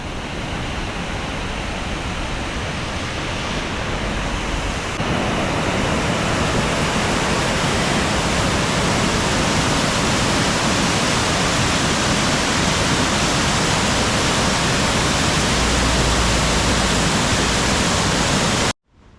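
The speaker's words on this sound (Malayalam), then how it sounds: "അവിടുന്ന് ഒരു വെള്ളച്ചാട്ടം കണ്ടോ" Heavy rushing water from a waterfall pouring into a monsoon-swollen river in an Idukki village, a dense, steady roar that fills the whole scene and swells slightly louder after a few seconds, with no voices.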